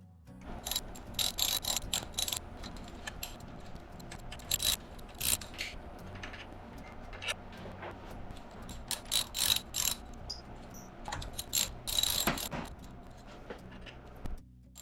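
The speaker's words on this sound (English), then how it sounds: "Time to break these bolts free. We've got a 6 millimeter Allen head socket." A ratchet fitted with a 6 mm Allen socket loosens the handlebar bolts on a Royal Enfield Himalayan, giving steady, close clicking in continuous runs with small metallic clunks and no speech.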